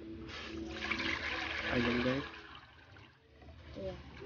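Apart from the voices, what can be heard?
water poured into cooking pot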